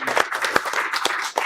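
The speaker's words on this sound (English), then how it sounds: "Let's give them a round of applause for showing up." Applause for police officers at an armor presentation honoring the Perry Police Department: a short burst of clapping from a small crowd, dense and steady with a few sharper claps standing out.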